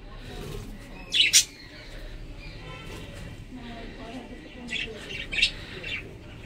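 Caged pet birds give a few faint, short chirps in two small bursts, one early and one later, over a quiet room background.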